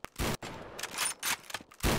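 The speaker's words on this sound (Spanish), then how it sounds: "El Jun ya ahí media hora disparando" Gunfire in a video game, a few short loud bursts of rapid shots separated by brief gaps, close and punchy with nothing else around them.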